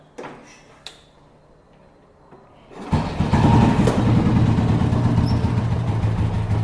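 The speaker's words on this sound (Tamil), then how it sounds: "ஸோ இன்ஜினோட சவுண்டும் நல்லா சூப்பராக இருக்குது." A Bullet 315 motorcycle engine starts after a few seconds of quiet with faint ticks, then runs loud and steady with a deep, even thumping idle to the end.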